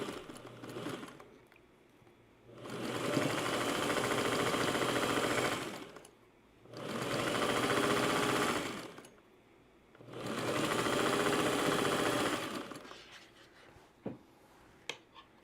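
A sewing machine stitches a quilt in three long, steady runs of fast mechanical whirring, each lasting a few seconds, separated by brief pauses with quieter handling noises.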